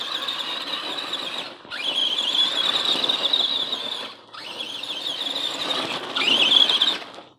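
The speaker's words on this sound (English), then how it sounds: "that was a quick little test run there with the truck" Feiyue FY06 RC truck fitted with a 540 electric motor, whining in a high steady squeal through three bursts of running, each separated by a brief pause with a rising pitch sweep as the motor spins back up.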